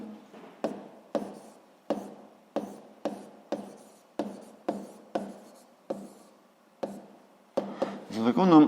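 Pen or chalk strokes as a physics formula for sliding friction is written out, a dozen crisp regular taps and scratches about every half second, close and distinct, with a louder scrape at the end.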